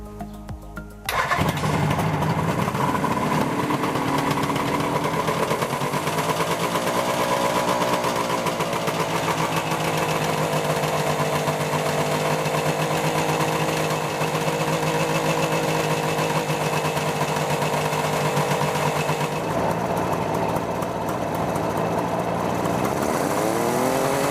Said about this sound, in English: Run the engine again and do a short throttle test.